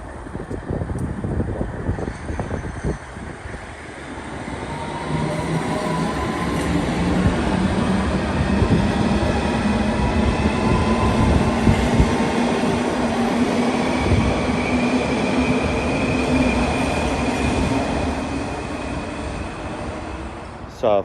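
Piccadilly line 1973 stock Underground train running near Hillingdon, a steady loud rumble and rising drone of motors and wheels with rushing air, building after a quieter start and holding level throughout.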